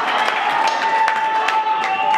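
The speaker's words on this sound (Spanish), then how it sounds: "es un aplauso para ellos, para esta bola de pendejos" Concert audience at the close of a show at the C3 in Guadalajara, applauding with steady dense clapping and a sustained tone running through, the crowd noise continuous and fairly loud throughout.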